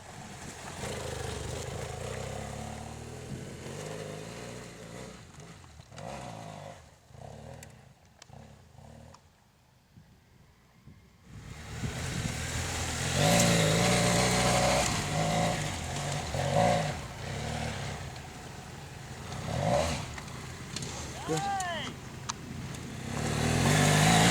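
An off-road motorcycle, a BMW F800GS or Suzuki DR650, revs and drones while spinning around a dirt pit. The engine fades to near silence midway, then returns loud and close with rising and falling revs.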